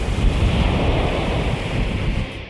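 Ocean waves breaking at a surf spot's bowl section, a loud continuous rushing roar of surf with wind buffeting the microphone.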